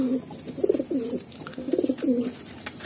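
Breeding pair of pigeons cooing in a loft with large breeding coops, with several soft, rounded coo phrases in two bursts, close by and clear over a steady background hiss.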